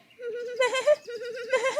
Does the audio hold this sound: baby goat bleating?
yes